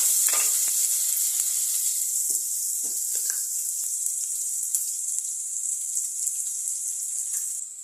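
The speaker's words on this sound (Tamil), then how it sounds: "வெங்காயம் நல்லா வதங்கட்டும்" Onions with curry leaves and salt sauteing in a heated clay pot, a steady bright sizzle running throughout with a few soft scraping stirs, close and fairly loud.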